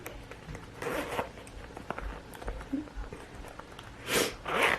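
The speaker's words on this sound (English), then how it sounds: "when you open this purse up, you have a zipper here" A zipper rasps open in a few short, scratchy pulls, with quiet handling noises and faint rustling between them.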